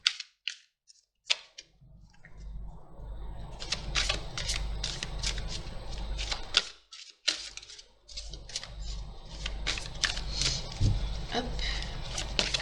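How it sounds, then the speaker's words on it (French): A deck of oracle cards being shuffled and drawn, with repeated crisp riffling and slapping bursts near and fairly clear, broken by brief pauses, and a steady low hum underneath. "je tire comme d'habitude 3 cartes avec l'oracle de l'énergie"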